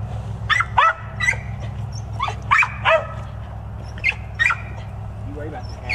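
A dog barks repeatedly in short, sharp bursts, fairly close, with a steady low hum running underneath.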